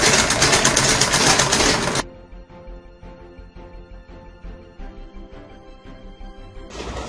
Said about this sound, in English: You lock the stitch at the beginning, then you continue sewing.